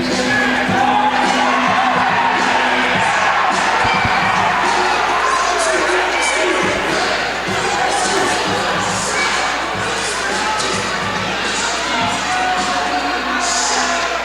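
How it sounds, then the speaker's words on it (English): An excited crowd roars at an ice hockey rink during a power play, a loud, sustained wash of cheering and shouting with no break. "Crowd's very excited."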